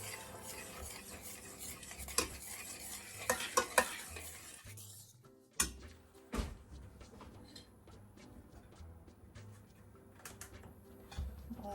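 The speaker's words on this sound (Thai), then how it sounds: "คนให้เข้ากัน" Pizza sauce is stirred in a pot with a utensil scraping and knocking against the metal, a few sharp clanks standing out over a low simmering hiss; no one speaks.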